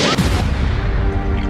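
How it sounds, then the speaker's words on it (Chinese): A pink tentacled Lego monster model explodes with a splatter of green slime, a loud, dense, booming blast that rumbles on without a break for about a second and a half. "粉色的出手怪在爆炸瞬间露出了绿色的内脏，粘液飞溅宣告了怪兽的终结"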